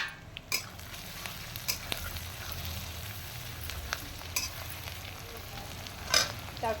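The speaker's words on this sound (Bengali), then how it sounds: "এবার আমি আলুটা দিয়ে একটু ভেজে নিচ্ছি।" Potato pieces frying in hot oil in a pan alongside half-fried onion for a mutton masala, a steady sizzle with a few brief louder spits, close and without talk.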